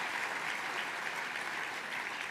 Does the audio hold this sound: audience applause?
yes